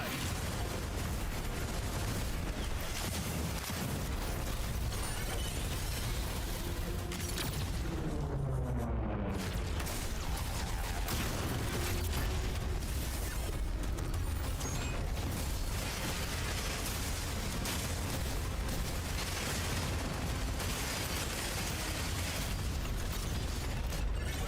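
Heavy mechanical clanks, booms and bursts from big guns firing in a mecha robot video game trailer, continuous and loud throughout, mixed with dense music and effects.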